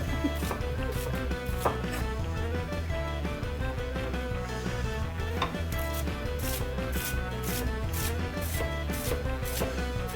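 A knife chops celery on a cutting board, making steady, close scraping and chopping noises that blend with a thick bed of background sound and carry on without any talking.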